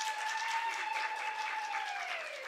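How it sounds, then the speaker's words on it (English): An audience at a women-in-media event claps steadily in a hall, a moderate, even wash of applause that continues throughout with a faint tone underneath. "A round of applause for her,"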